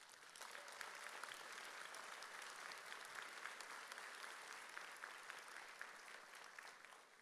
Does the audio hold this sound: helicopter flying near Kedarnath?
no